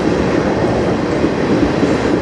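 A slow freight train in Sarnia, Ontario rumbles past nearby in a steady, continuous roar, with a faint clatter of wheels on track and no voices.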